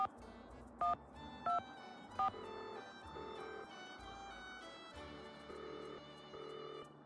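Telephone keypad tones in the Nancy Drew: Danger by Design video game, three short bright beeps about two-thirds of a second apart, then a steady sequence of paired tones continuing over a soft background hum, with no talking.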